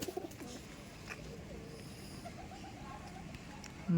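Madrasi pigeon, a tournament-quality bird, cooing repeatedly in soft low rhythmic calls at close range, with a steady background hum and a brief louder noise at the very end.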